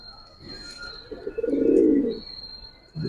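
A Sapchila pigeon gives a single low, throaty coo lasting about a second, close and fairly soft, with a faint steady tone and quiet surroundings around it.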